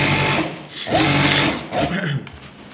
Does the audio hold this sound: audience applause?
no